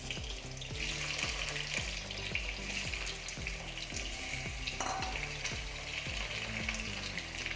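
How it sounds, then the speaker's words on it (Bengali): Potatoes frying in hot mustard oil, a loud, dense, continuous sizzle and crackle with a rhythmic mechanical clicking underneath, no talking. "এবারে তেলটাকে গরম করে নিয়েছি, তার মধ্যে আলুগুলো দিয়ে দেব।"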